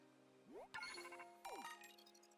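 Pokemon Scarlet phone notification: a rising electronic sweep followed by two bright chiming jingles, each a cluster of ringing tones, clean and close with no talking.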